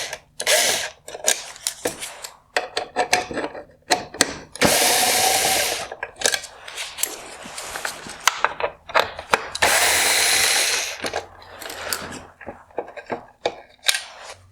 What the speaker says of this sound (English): Next, I'm going to remove the T20 Torx screws holding on this inner reflector.